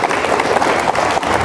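Applause from a debate audience after a constitution debate speech, a loud dense burst of clapping filling the whole moment up close.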